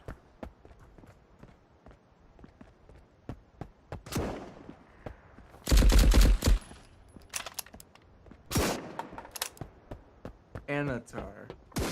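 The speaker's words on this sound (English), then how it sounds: "Now it's shooting me." Video-game gunfire aimed at the player, heard as scattered sharp cracks with a dense, loud volley in the middle and another burst shortly after, over light background clatter.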